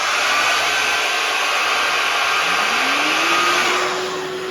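A Festool cordless vacuum extractor runs as a steady, loud broadband whoosh, its motor pitch rising near the end as it spins up further, with no talking.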